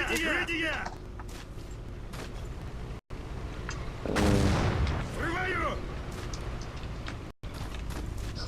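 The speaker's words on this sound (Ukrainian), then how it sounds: "Так, вони ну опять продовжують стріляти в стіну, ну." Gunfire rings out in Battlefield 1942 during the Battle of Stalingrad. Scattered shots and one heavy blast sound over mechanical clanks and creaks, at moderate volume.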